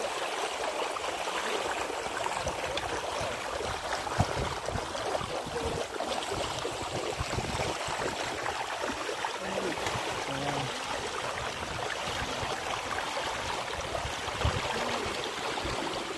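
Floodwater rushes steadily along a waist-deep, waterlogged college campus road after a day of heavy monsoon rain, a continuous broad wash of flowing water with no voices.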